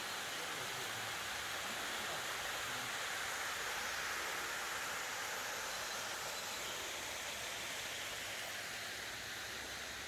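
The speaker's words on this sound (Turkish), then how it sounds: "Şelalemizi alalım şöyle." Waterfall in Alanya, a continuous broad rushing roar of falling water, steady and dense for the full stretch with nothing else over it.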